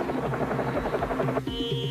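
Helicopter flying: a steady rotor thump and buzzing drone, fairly loud throughout, with a slight shift in pitch near the end and no talking.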